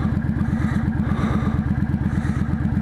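A motorcycle engine chugs steadily at low speed in slow traffic, a loud close rhythmic putter with clattering mechanical noise running throughout.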